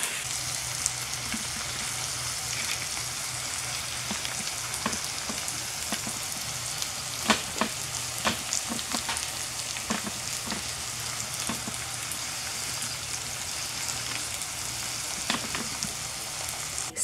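Philly cheesesteak filling of steak and melting cheese fries in a pan with a steady, close crackling sizzle and scattered sharper pops throughout, no voices.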